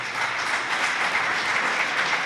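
A short burst of steady applause from the audience at a sports club's jersey presentation evening, a close, even patter of many hands clapping without talk.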